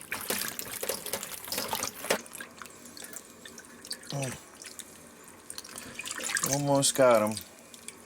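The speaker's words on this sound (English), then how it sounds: "Just washing the dirt off the caps is all, where the natural dirt got on." Tap water runs and splashes as honey mushroom caps are washed, a close, uneven gush that swells and fades while people talk over it.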